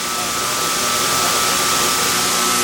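A CPM-3V steel knife blade being ground toward its edge on a belt grinder during production of a Gunny Sidekick at Bark River, a loud continuous whirring hum with an abrasive hiss and steady tone throughout.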